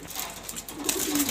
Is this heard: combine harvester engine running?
no